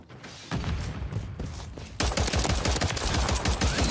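Rapid automatic gunfire in an online shooter match, a continuous loud stream of closely spaced shots that grows heavier and denser halfway through, with no talk.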